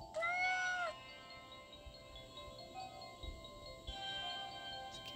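A cat in the video game Cats Are Liquid lets out one short, clear meow at the start, followed by quiet background tones.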